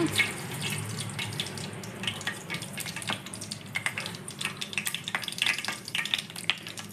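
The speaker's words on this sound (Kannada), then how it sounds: "ಬಾಣಲೆಗೆ ಒಗ್ಗರಣೆಗೆ ತಕ್ಕಷ್ಟು ಎಣ್ಣೆ ಹಾಕ್ಕೊಳ್ಳೋಣ ಈಗ ಸ್ವಲ್ಪ ಸಾಸಿವೆ" Mustard seeds tempering in hot oil in a pan, a steady close sizzle with increasingly frequent small pops and crackles as the seeds start to sputter.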